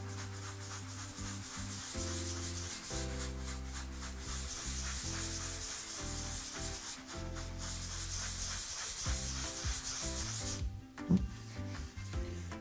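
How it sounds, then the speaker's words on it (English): Hand sanding on a drywall patch over a nail pop makes a close, continuous scratchy rubbing with repeated back-and-forth strokes, pausing briefly near the end before resuming. "The more drywall that you have, the more sanding will be needed."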